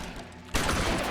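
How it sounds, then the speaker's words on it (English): Gunfire erupts in a police shootout in the video game L.A. Noire, a quiet stretch giving way halfway through to a loud, dense burst of rapid shots that continues without a break. "who's got the machine gun?"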